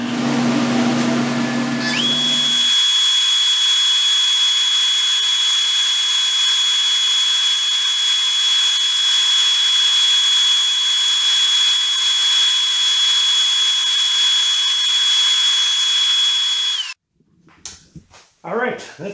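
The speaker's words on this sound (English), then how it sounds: "we'll sand this off, and we used a little disc sander here" A small disc sander works a zero clearance insert plate, spinning up and holding a loud, steady high whine for about fifteen seconds before shutting off; brief talk comes before and after.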